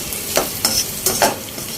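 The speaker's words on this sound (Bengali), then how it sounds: "এখন একটু পেঁয়াজটাকে ভেজে নিব" Onions frying in a pan for a Bengali chicken lotpoti curry, with a steady sizzle and three or four scraping bursts as a utensil stirs them, close and alone without voices.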